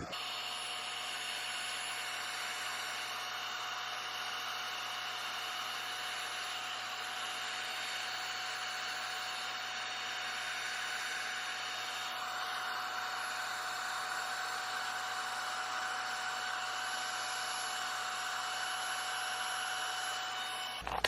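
Heat tool blowing hot air over junk journal craft materials, a steady, faint whir with a constant whine running unbroken for about twenty seconds, no talking.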